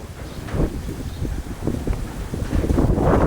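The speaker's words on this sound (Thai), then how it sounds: "พายุแรงมากครับลมแรง น่ากลัวมากครับ" Strong gusting wind sweeps through ahead of a rainstorm in Thailand, rumbling and buffeting the microphone with rising and falling surges over about three seconds, the loudest gusts coming near the end; no voices are heard.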